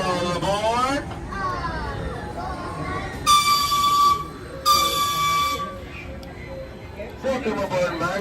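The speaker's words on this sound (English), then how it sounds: "I'll be your conductor for a trip on the Ghost Town Calico Railroad. The train will be leaving the station in a few moments" The Ghost Town Calico Railroad train at Knott's Berry Farm during the Boysenberry Festival gives two loud, sustained whistle blasts over a rumbling engine, with people talking nearby throughout.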